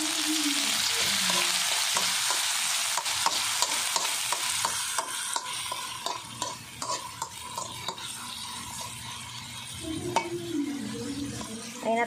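Tomatoes sizzle and fry in a pan for adobong ampalaya, with steady close sizzling broken by repeated scraping strokes of a spoon stirring through the pan.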